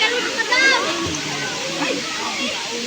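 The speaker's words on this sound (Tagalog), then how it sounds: "tara, simulan natin maligo" River water rushes and splashes steadily as people swim and bathe in a cold river, with faint voices nearby throughout.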